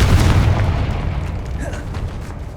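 Confringo spell explosion in the Hogwarts Legacy video game: a loud, deep boom with a rumbling tail that fades over a couple of seconds.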